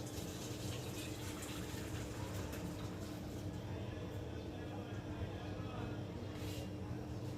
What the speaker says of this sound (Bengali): ফুলকপি আর আলুটা আমি ছেঁকে নিচ্ছি